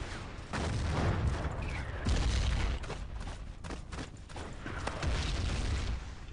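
X-Pack explosives detonating in a Battlefield 1942 match on the Stalingrad map, a few loud, heavy booming blasts, each rolling out for a second or so, amid scattered gunfire.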